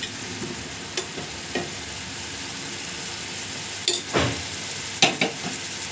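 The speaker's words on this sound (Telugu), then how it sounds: "ఈ కారం అంతా 1 నిమిషం పాటు బాగా ఇలా ఆయిల్లో బాగా డ్రై అవ్వనివ్వండి" Chili powder fries in hot oil for a Nellore-style fish curry, a soft continuous sizzle broken by a few sharp scraping stirs, with no voices.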